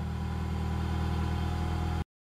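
A $500 Buick LeSabre engine runs at a steady, loud idle with a low, even drone and faint revving texture, then cuts off abruptly into near silence just before the end.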